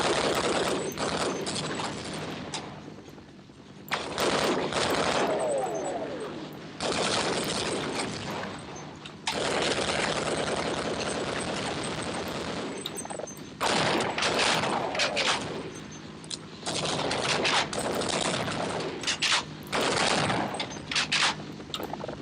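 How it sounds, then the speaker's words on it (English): Repeated heavy weapon fire from a mortar gun in Half-Life, loud bursts of rapid shooting separated by short lulls, continuing through the whole stretch with no voices. "So there's clearly a mortar gun shooting"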